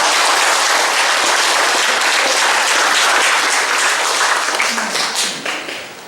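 A church congregation applauds during a Sunday worship service, a dense, loud wash of clapping that holds steady before thinning and fading out in the last second or so.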